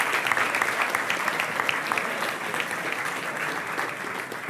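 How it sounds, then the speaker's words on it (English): Audience applause fills a hall at a welcome event for a new Bachelor of Science cohort at a business school, a steady dense wash of many hands clapping at moderate distance, with no talking over it. "Applause."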